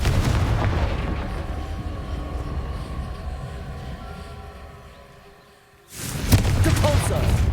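A Confringo explosive spell goes off in Hogwarts Legacy. A heavy rumbling blast fades out, then a second loud burst hits near the end.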